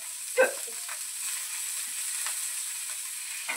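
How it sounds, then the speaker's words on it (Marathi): Chilies frying in oil in a pan for kharda, a spicy chili relish, give off a faint, steady sizzle with a few soft clicks and pops near the start. "तेल टाकले याच्यात जरा तळून घेते."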